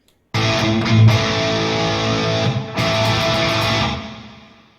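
Distorted electric guitar tone from a rig built with free virtual amp plugins: a loud chord rings out, a second strike follows, and an echoey tail slowly fades, alone with no talking.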